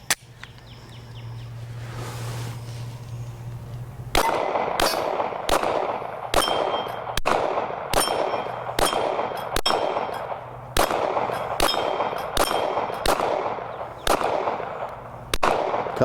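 Glock 48 pistol firing light loads from a 15-round Shield Arms magazine at an outdoor range, roughly a dozen sharp, loud, close reports in an irregular rapid string after a few seconds of quiet, with no talking.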